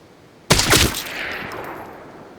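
A sudden loud burst of several rapid gunshots in the tactical shooter game Arena Breakout: Infinite, close and sharp, followed by a long echoing decay that fades over about two seconds, with no voices.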